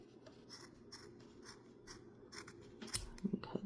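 Scissors snip repeatedly through yarn strands while a pom pom is trimmed into a rounder shape, giving soft, close, irregular cuts over a quiet background that grow a bit louder and crisper toward the end.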